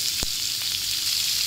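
Onion and curry leaves fry with ginger and garlic in hot oil, a soft continuous sizzle with one sharp spatter near the start.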